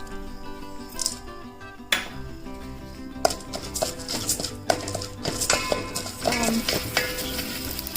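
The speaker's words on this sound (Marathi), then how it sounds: "आता त्याच तुपामध्ये धुतलेले इंद्रायणी तांदूळ परतून घ्यायचे।" Washed Indrayani rice being sautéed in ghee for rice kheer, with a soft sizzle, scraping stirs and metallic pan knocks close by, alone without talk.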